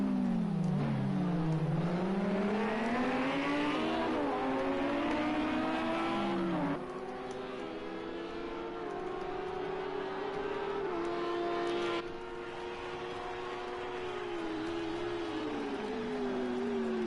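A black and red Lamborghini race car in Project CARS 2 at Hockenheimring, its engine revving loudly through rising and falling gear changes, steady and close, with the pitch sweeping up and dropping several times.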